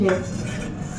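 A small metal kadai clatters as it is handled in a home kitchen, with a sharp clank right at the start and then softer rattling, while a voice speaks briefly.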